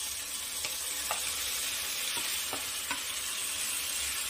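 Tomatoes with turmeric and chili sautéing in a pan give a steady broadband sizzle, with a few soft spoon scrapes and taps spaced through it; no voices.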